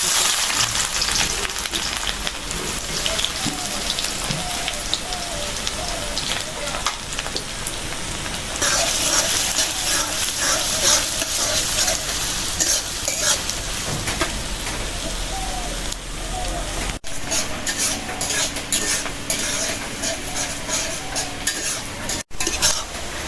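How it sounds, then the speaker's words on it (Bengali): Onions fry in pure mustard oil with a loud, continuous crackling sizzle, rain-like and close, broken by stirring scrapes and utensil clinks, the hiss shifting in tone partway through. "পেঁয়াজটা ভাজা নিলাম খাটি সরিষার তেল"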